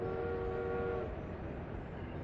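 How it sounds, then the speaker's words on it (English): Steam trains running in a city-building game, a steady rumbling rail roar with a sustained whistle tone in the first second that fades, continuous and moderately distant with no talk. "We got steam trains running."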